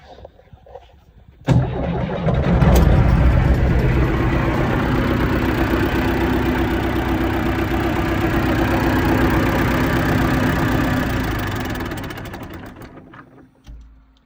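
A tractor fitted with a new 2.7 kW starter cranks briefly and catches, then its engine runs at a steady, loud idle for about ten seconds before shutting off.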